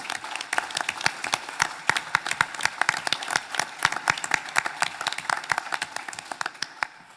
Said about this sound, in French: je demanderai à tous d'applaudir tous les bâtonniers